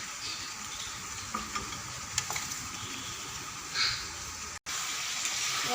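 Ginger, cumin and coriander paste frying in oil for a fish curry, a low steady sizzle and hiss, close by, broken by a few light stirring knocks and a brief cut in sound.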